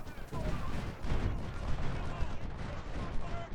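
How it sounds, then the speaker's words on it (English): Artillery barrages from the American Civil War strategy game Ultimate General: Civil War, a steady dense rumble of overlapping cannon booms and distant volleys lasting throughout, with no talking. "he does have that unit of 770, so I'm shift all my artillery to hit him and rout him."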